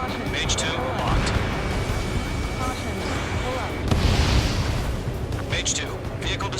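A heavy boom from a vehicle blown apart in Ace Combat 7, layered under jet engine roar and radio chatter, with a strong burst near the middle standing out from the continuous rumble.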